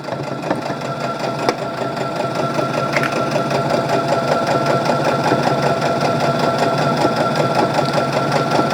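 A sewing machine runs steadily, stitching through a zipper bag with a continuous close mechanical whir and needle rhythm that holds for the whole stretch, with a brief pause-like change near the start as it reverses and then drives forward again.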